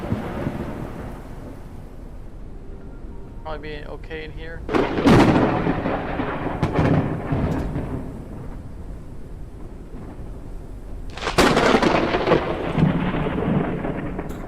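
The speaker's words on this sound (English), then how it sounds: "That's gonna be one of the serious storms." Thunder from a serious storm rumbles through a shelter in the video game Forever Skies, with two loud cracking booms over steady rain, while a voice speaks briefly during the quieter stretch.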